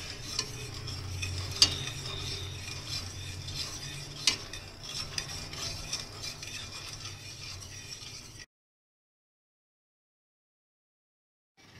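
A spoon stirs a warming mango fruit mixture with sugar in a pot, a steady soft scraping and swishing with a few sharp metallic taps against the side, then sudden silence.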